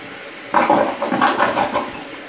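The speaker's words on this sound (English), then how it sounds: "Here's a half flush" Half flush on a dual flush toilet: a sudden rush of water starts abruptly, gurgles and swirls for under two seconds, then tapers off, close and fairly loud.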